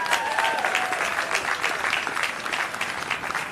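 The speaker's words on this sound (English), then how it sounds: "Please join me in a round of applause" A dense, steady round of applause fills the room from the audience at a county party chairs' brunch in Chicago, loud and continuous without a break.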